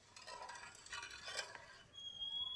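A spoon stirs sugar into water in a pot over a wood-fired stove for gulab jamun syrup. Soft scraping swirls come in a few quiet strokes, faint and close, with a thin ringing tone near the end.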